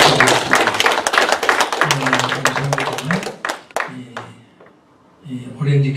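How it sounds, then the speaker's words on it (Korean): A congregation at a Thursday intercessory prayer meeting in Orange County claps together in thanks and glory, a quick rhythmic burst over voices and music, before it stops abruptly and a voice resumes. "감사의 박수, 영광의 박수입니다."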